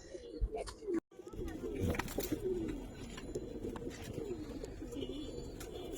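Giribaz high-flyer pigeons coo in soft, repeated rolling calls throughout, with someone talking over them and a brief gap of near silence early on.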